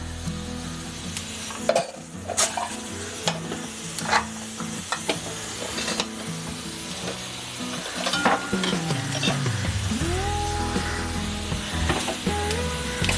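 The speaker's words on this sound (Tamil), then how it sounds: "எண்ணெய் காஞ்சதும் 1 ஸ்பூன் சோம்பு போட்டுக்கோங்க தாளிக்கிறதுக்கு." Fennel seeds sizzle and crackle steadily in hot oil in a pan, with occasional scrapes and stirring clatter, the frying growing denser toward the end.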